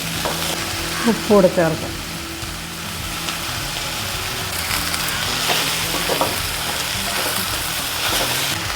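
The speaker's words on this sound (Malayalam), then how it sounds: "ഇതെല്ലാം കൂടെ ഒന്ന് മിക്സാക്കിയിട്ട് അടച്ച് വെക്കാം." Drumstick (moringa) thoran, a Kerala vegetable dish, is stir-fried in a pan. A steady close sizzle runs throughout with stirring scrapes and shuffles, and a person briefly speaks near the start.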